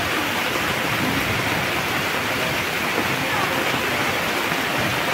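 Heavy overnight rain from Typhoon Goring pours down in Occidental Mindoro, a loud, unbroken hiss and roar of water that stays constant throughout.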